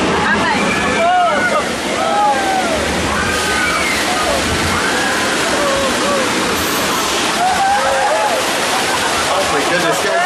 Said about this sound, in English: It sounds like water.